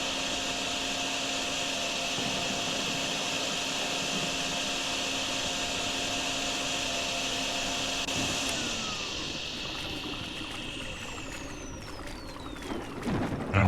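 A vacuum in the DrainSim video game sucks up floodwater with a loud, steady whine and hiss that shifts in tone partway through and then fades into splashy clatter.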